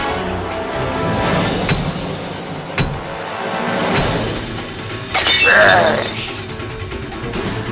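Safety glass in a Hardy Boys video game is struck again and again, with sharp separate cracks and then a loud shattering burst with tinkling shards, close and prominent.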